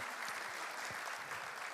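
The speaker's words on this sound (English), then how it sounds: "Please give a big round of applause." Applause from the audience at an opening plenary session of the REAIM Summit 2024 comes as a dense, steady wash of clapping, moderately loud, with no speech.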